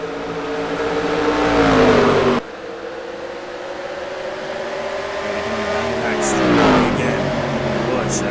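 Race car engines at Richmond in the NASCAR Racing 2003 video game drone steadily, with pitch sweeping up and down as cars run side by side, loud and continuous beneath race commentary.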